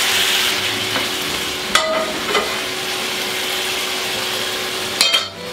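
Spiced chicken sizzles steadily in a pan as broth goes in, with a constant frying hiss broken by a few sharp utensil knocks and scrapes.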